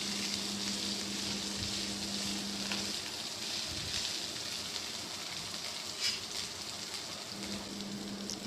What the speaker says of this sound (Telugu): ఇప్పుడు దంచి పెట్టుకున్న అల్లం పచ్చిమిర్చి పేస్ట్ వేసుకుందాం. ఇప్పుడు ఒకసారి కలిపేసుకుందాం.